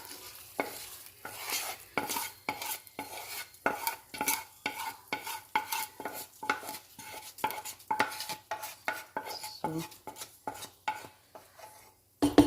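A sautéed mixture is tipped into thick adai batter in a bowl and stirred, giving a run of close, rhythmic wet scrapes and clinks against the vessel, with no one speaking.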